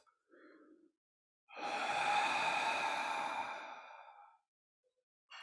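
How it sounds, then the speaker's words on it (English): One long, deep exhaled breath, like a slow sigh, preceded by a short soft inhale in a quiet room. "I always like to just take a moment to take a deep breath."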